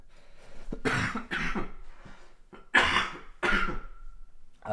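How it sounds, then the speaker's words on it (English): Several harsh coughs in separate bursts, close to the mic, with short quiet gaps between them and a brief throat-clearing sound. "Sorry for coughing"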